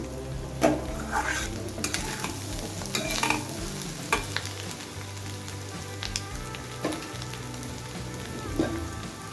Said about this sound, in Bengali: এরকম আস্তে আস্তে করে ভাজতে থাকবে